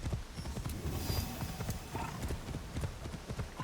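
Horse hooves clip-clop steadily in Assassin's Creed Shadows, a regular close trotting rhythm that runs throughout with faint background game ambience.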